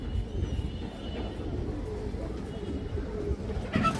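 Soft pigeon cooing murmurs low and steady throughout, with a faint rustle and a brief louder shuffle near the end.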